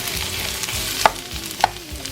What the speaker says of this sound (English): I'm going to gently sweat this off so I can put this on top of our fillets.